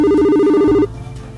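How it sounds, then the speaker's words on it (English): A mobile phone rings loud and close with a steady repeating electronic chime pattern for most of a second, then cuts off, leaving a low room hum. "Suddenly, his phone rang."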